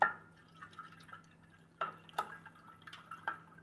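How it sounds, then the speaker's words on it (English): Cold water drips in sparse, irregular plinks during cooling of a homebrew ale, faint and close, with a low steady hum beneath and no talk. "that is really cold water"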